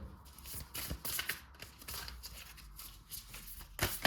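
Tarot cards are shuffled by hand for a reading, a soft continuous riffling and sliding of card stock with small flicks and taps, close but quiet, with no voices over it.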